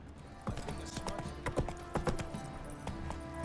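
Hooves of Roach, the horse in The Witcher 3: a steady clip-clop of hoofbeats at a walking pace, moderately close, with game ambience underneath.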